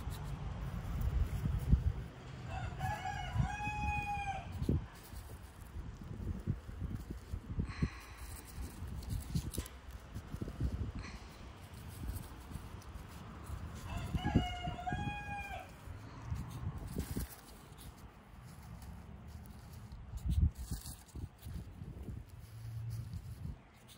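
A rooster crows twice, once early and again midway, over a steady low rumble of background noise.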